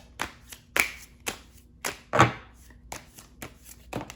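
Sharp riffling and slapping bursts of tarot cards being shuffled, a loud flurry near the middle among lighter taps, close and with no talking.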